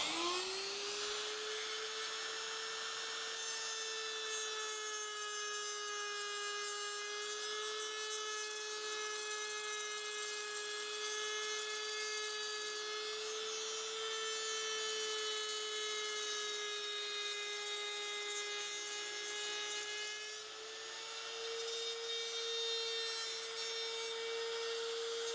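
Drillmaster trim router cutting through a piece of wood, held against a fence, giving a steady, loud, high-pitched whine with strong harmonics that holds nearly constant for the whole stretch, dipping briefly once near the end.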